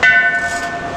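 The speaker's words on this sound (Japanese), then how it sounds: "ここに鐘があります。" A bell at a Japanese hot spring, reached by a long stairway down by a river, is struck once, loud and close, and its bright metallic tone rings on and slowly fades.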